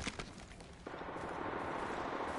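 Rapid bursts of gunfire in a video game battle, a dense sustained crackle of shots filling the clip at moderate volume with no talk over it.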